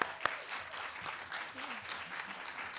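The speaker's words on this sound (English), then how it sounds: "let's have a little warm round of applause for our panelists" An audience at the GBH Media Summit 2025 offers a warm round of applause for the panelists of a discussion on bridging the religious divide. Steady, moderately faint clapping follows one sharp early clap.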